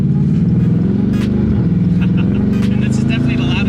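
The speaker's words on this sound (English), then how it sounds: "this is definitely the loudest car I've driven" A 2018 Dodge Challenger engine rumbling while driving, a deep, loud, steady throbbing drone heard from inside the car, with people talking over it.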